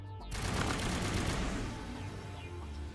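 Dense rifle fire from the game Mass Effect 1, a loud continuous burst of rapid shots that stays steady, then eases slightly toward the end, with no talking over it.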